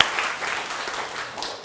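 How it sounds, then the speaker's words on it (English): An audience applauds at a talks meetup, a dense, steady wash of clapping from many hands that carries on for the whole short stretch without a break. "Give him a round of applause."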